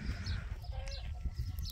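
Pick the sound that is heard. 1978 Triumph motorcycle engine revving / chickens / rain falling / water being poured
chickens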